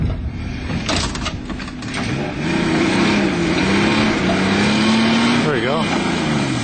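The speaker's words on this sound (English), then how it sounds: "A couple cars stuck together and try to get them apart here." Machinery straining as stuck-together dead Ford Taurus cars are pulled apart, a loud steady mechanical drone with rising and falling pitch, scraping clatter near the start and voices talking over it.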